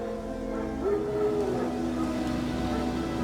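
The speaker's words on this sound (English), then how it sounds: "Wild dogs. Yes. More dangerous than wolves." Wild dogs in the video game The Witcher 3 howl and bark in a drawn-out, wavering cry over a dense, continuous rumble of wind and ambient background noise.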